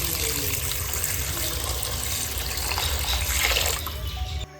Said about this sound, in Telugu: నార్మల్ వాటర్తో వీటిని 3 సార్లు వరకు కడగాలి.